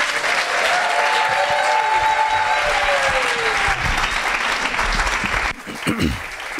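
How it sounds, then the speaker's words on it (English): A large audience gives a presenter a sustained round of applause at a charity pitch event, full and loud throughout before tapering off near the end, with a voice briefly audible. "big round of applause"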